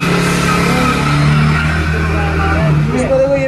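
A 2022 Hero Splendor Plus XTec motorcycle engine runs just after starting, giving a close, loud and steady hum with slight pitch wavering over a few seconds.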